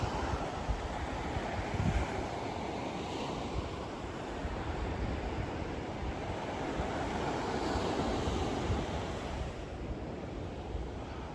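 North Sea surf washes in a constant roar on the Suffolk coast, mixed with gusty wind buffeting the microphone; no voices, an unbroken wash of sea noise throughout.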